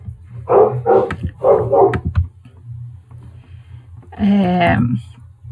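A dog barks several times in quick succession nearby, then a person speaks briefly, over a low steady background hum.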